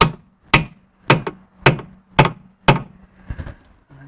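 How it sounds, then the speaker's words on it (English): A big hammer strikes a suspension link bush on the De Dion rear axle of a 1970 Rover P6 3500 S, about seven sharp metallic knocks in an even rhythm, each ringing briefly, loud and close. "So I'm going to use this big hammer"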